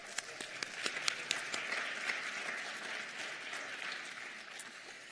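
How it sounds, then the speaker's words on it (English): Applause from an audience at a first-generation student commencement, a fairly distant, steady patter of many hands with a few sharper nearby claps standing out early, holding evenly to the end. "So let's clap for them"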